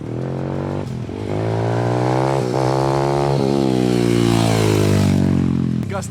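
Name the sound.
motocross bike revving while attempting a wheelie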